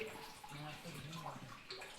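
A hand slowly swirls cold water in Dev Taka, a rock-cut water tank at Sinhgad Fort, making a faint, soft continuous sloshing and trickling heard close up in a quiet setting.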